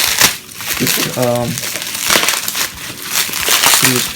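Crinkly plastic wrap is pulled and crumpled off a YJ MGC 7x7 magnetic puzzle cube in loud, close, continuous crackling, while a voice talks briefly over it.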